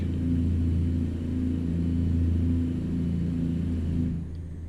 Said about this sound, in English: This truck sounds fantastic.